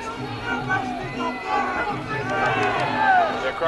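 A crowd at a European kickboxing title fight roars and chatters steadily, a dense wash of voices that swells toward the end.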